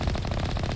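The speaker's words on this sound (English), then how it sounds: "How are you shooting me?" Rapid automatic gunfire from a shooter in the video game Mass Effect Legendary Edition, a steady rattling burst of closely spaced shots that runs loud and continuous through the whole moment.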